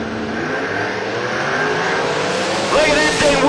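Mustang drag race car launching at the start of a drag race, a loud roaring engine swelling in pitch over a few seconds as it accelerates, with a commentator talking over it.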